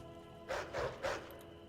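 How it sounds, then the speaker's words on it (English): A Nix-hound in modded Skyrim gives three short barks in a quick run, moderately close over a faint steady background hum. "They've got a Nyx hound."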